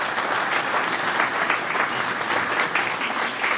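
A college audience at a National Science Day event gives a big round of applause to a welcomed guest, a loud, dense, continuous wash of clapping from many hands filling the whole stretch without any voices over it.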